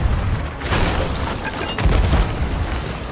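Cannon fire in Sea of Thieves lands as loud, close booms, a heavy blast followed by a second one about a second later over a rumbling background.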